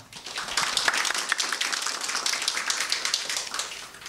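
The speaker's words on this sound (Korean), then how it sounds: "박수로 환영하겠습니다" Audience applause welcoming a pastor to a seminary book concert, steady scattered clapping from a modest crowd for a few seconds, fading at the end.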